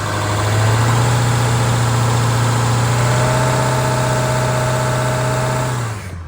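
A 7.3L diesel truck engine idles steadily with a deep, constant drone and a thin whistling hiss from a turbo boost leak at a worm clamp, loud and close, cutting off near the end.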